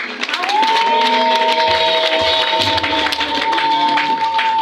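A church congregation applauding during a pastors' ordination service in Rwanda: sustained, dense clapping from a large crowd, loud and steady throughout, with a held tone and voices mixed in.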